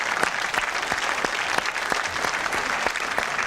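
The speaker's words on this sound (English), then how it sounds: "could we please now have a round of applause for the suspects?" A studio audience applauds steadily for the suspects in a 1974 television whodunnit, a dense, even wash of many hands clapping close and loud throughout.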